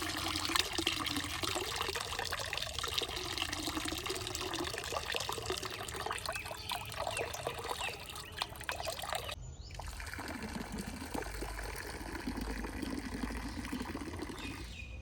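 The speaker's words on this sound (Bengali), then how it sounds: "ডালটা সবে যে পরিষ্কার করে ধোয়া হয়ে গেছে" Lentils are washed by hand in water while preparing traditional bori. Close sloshing and trickling water churns continuously, with a brief break partway through.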